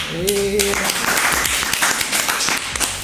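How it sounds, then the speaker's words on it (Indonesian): Studio audience applause, a dense burst of clapping from a small crowd, fairly close and loud, with a voice speaking over the start. "Tepuk tangan tuh boleh."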